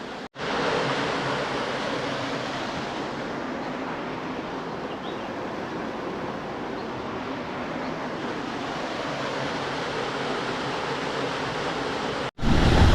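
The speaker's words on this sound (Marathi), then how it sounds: "माझ्या पाठी अजून एक छोटासा वॉटरफॉल आहे" A small waterfall that flows mainly in the monsoon rushes as a steady, close broadband roar throughout, broken only by brief cuts near the start and end, with no speech.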